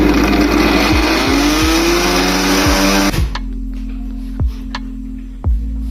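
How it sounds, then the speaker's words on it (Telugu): A kitchen mixer grinder runs loudly, whirring as it grinds small bread pieces into powder, with rattling knocks from the jar, then stops and leaves a fainter hum with a few clunks. "దీన్ని ఒకసారి గ్రైండ్ చేసి పొడి చేసుకున్నాము."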